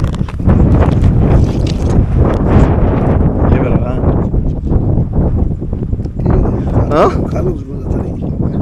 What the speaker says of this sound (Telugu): గాలి ఇది విపరీతంగా వస్తుంది